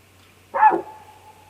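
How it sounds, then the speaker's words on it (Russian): A red deer gives a single sharp bark-like alarm call in the taiga of the Baikal reserve, Khamar-Daban, near the Temnik river. The call is short and clear, and a faint tonal tail trails after it in a quiet setting. "Этот звук, похожий на лай,"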